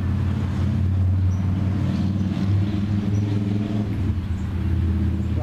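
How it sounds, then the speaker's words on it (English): Road traffic on Easter Day, a continuous low rumble of passing cars with steady engine and tyre noise heard from outdoors, with no speech. "Lots of Easter Day traffic."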